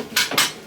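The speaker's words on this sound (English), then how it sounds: "So you're just going to push your foot pedal and the ram's going to come out." Pneumatic ram on a simple substrate bagger, driven by a foot pedal, gives two quick close bursts of hissing air in under a second, with nobody speaking.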